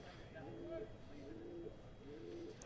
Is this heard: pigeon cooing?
yes